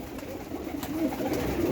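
Pigeons at a Sunday bird sale coo in soft, repeated low calls, close by and alone, with no talk over them.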